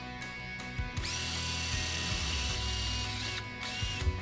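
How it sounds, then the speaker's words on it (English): A power drill whines steadily as it bites into metal, drilling out rivets holding a brake line on a Polaris RZR A-arm, with clicks and clunks of the tool at the start and end, close up. "we'll need to drill out the 2 rivets holding the brake line to it"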